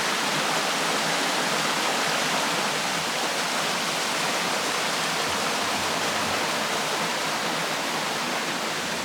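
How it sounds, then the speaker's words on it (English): Water pouring over the low cascades of Blue Heaven Waterfalls in Jamaica, a steady, dense, loud rush of falling water that holds constant and close throughout with no other sounds. "You're seeing all the different low waterfalls coming down."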